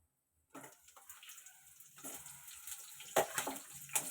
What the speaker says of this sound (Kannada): ಇವಾಗ ಎಣ್ಣೆ ಕಾಯ್ದಿದೆ. ಇವಾಗ ಈರುಳ್ಳಿ ಹಾಕೊಬಿಡೋಣ ಫಸ್ಟು.